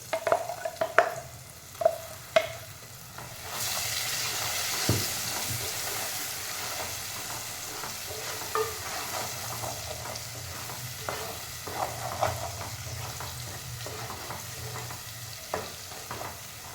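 A spoon stirs ground cashew paste for halwa in a pan, with soft scraping and a low simmering sizzle that rises after a few clinks at the start, fairly quiet throughout.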